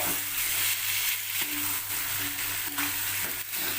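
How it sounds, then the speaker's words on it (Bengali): Badshahi chicken masala with ginger-garlic paste frying in oil, a continuous loud sizzle with spoon scraping and stirring throughout, close up. "দিয়ে ভালো করে এটাকে কষাবো তেল তো ছাড়তে আরম্ভ করে দিয়েছে"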